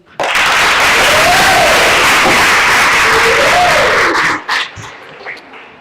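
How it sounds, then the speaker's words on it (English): A training group at a work readiness session bursts into loud, sustained applause close by, dense clapping mixed with whoops and a few shouts that tapers off near the end, with brief voices under it. "can you please give yourself a round of applause"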